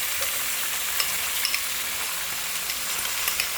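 Miso being sautéed in a pan with onion, garlic and ginger: a steady, close sizzle with faint stirring scrapes and occasional small pops.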